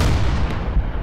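A single deep, booming artillery shot from a World War II hedgerow combat video game, loud and close with a long rumbling tail.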